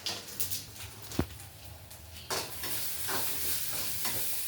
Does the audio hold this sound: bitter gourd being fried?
yes